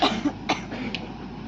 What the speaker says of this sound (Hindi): खांसी आ रही ना बीच बीच में